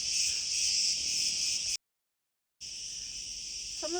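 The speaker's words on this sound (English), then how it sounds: "So you can hear the cicadas in the background today." Cicadas in hot summer weather in Crete, a dense, high, continuous buzzing chorus that cuts out completely for under a second and then resumes, with a faint warbling bird call near the end.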